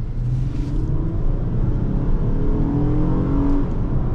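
A 2010 Honda Accord EX-L V6 accelerates on a test drive, its engine giving a deep, steady rumble heard from inside the car, with no talk.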